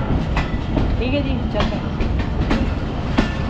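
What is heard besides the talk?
Subak Raftar Express railcar train running on tracks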